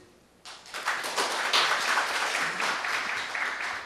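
Seminar audience at the National Assembly Library clapping, a dense burst of applause that starts abruptly after a brief quiet moment and holds steady, fairly loud and close, to the end.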